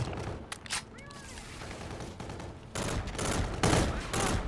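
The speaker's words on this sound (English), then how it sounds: "That guy's just shooting everything he can see." Gunfire in the video game Call of Duty: Infinite Warfare comes in bursts of rapid shots, quiet at first and then a loud sustained barrage in the second half.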